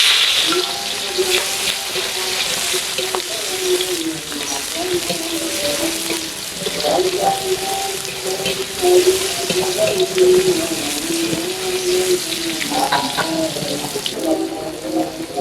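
Shallots, garlic and tomato sautéing in a pan on the way to stir-fried green beans: a steady sizzle with stirring and scraping, a faint tonal hum running underneath, and occasional soft voices in the background.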